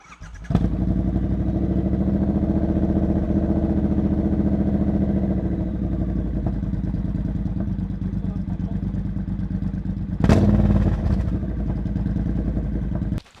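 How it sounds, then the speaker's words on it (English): A motorcycle engine runs loud and close with a steady idle throughout, then gives a sharp rev burst near the end before settling again. "You want to listen to the bike?"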